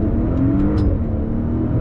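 A 2022 Maserati Ghibli Modena sport sedan accelerating hard under throttle, a loud, steady engine roar held close and continuous throughout, with no talking.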